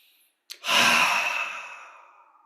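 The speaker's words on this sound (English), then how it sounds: "So everybody slowly breathing in." A group breathing in slowly together during a guided meditation, a long audible inhale that swells quickly and then fades gradually over about two seconds, close and fairly loud.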